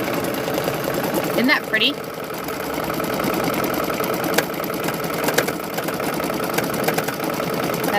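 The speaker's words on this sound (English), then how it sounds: "we're gonna go ahead and continue stitching on this." An embroidery machine stitches a Christmas ornament, its steady mechanical whir running continuously at close range while someone speaks briefly over it.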